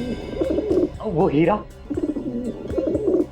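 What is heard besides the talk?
pet pigeons cooing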